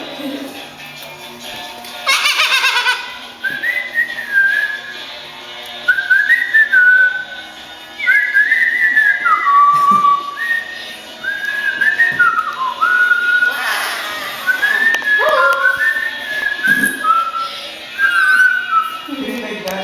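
A pet bird whistles in a series of short, bright rising and falling phrases, close and fairly loud, with a person speaking softly at moments and light shuffling in the room.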